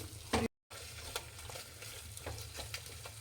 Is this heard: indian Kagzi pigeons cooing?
no